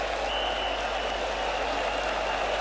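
A packed cricket ground's crowd applauding as the West Indies innings ends all out at a 1990 West Indies vs England Test, dense continuous clapping heard from a distance without pause.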